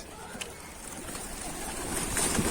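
Soft cooing of Mardin pigeons on a rooftop over a steady wash of outdoor background noise, with no one talking.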